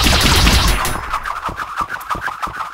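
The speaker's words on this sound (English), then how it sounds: "I'm gonna shoot him with a gun. Full auto." Full-auto gunfire from the video game Ultrakill, a dense burst of rapid shots blending into a roaring wash, then a quicker rattling stream of individual pops over about three seconds.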